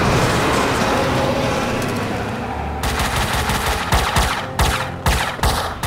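Loud rapid bursts of gunfire in Max Payne 2, starting as a dense roar and breaking into separate sharp volleys of shots near the end.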